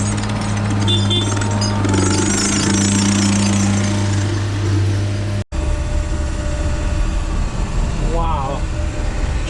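ASV 247 compact track loader engine idling and running steadily on a driveway job site, a loud continuous diesel rumble with a strong low drone, briefly cut off midway then resuming alongside other machinery noise.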